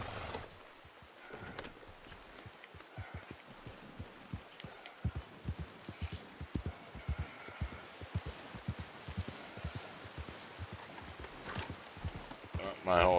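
A horse in the video game Red Dead Redemption 2 moves along with a steady, rhythmic clip-clop of hooves under a faint ambient backdrop, getting denser and louder as it goes.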